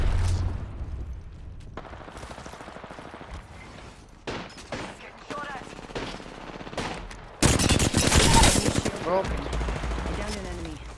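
Rapid bursts of automatic gunfire in a video game shooter, dense rattling volleys that swell into a loud sustained barrage near the end, with a voice speaking over parts of it.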